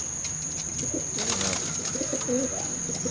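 Domestic pigeons coo in a breeder loft at dusk, soft rolling calls repeating close by over a faint steady background hiss.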